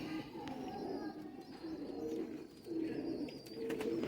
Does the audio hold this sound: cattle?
no